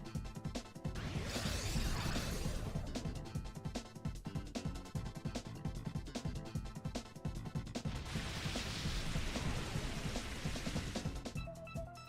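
Steady rain from the Drizzle weather ability in the Pokemon XD: Gale of Darkness video game hisses without pause, a dense wash with faint crackling spatters throughout.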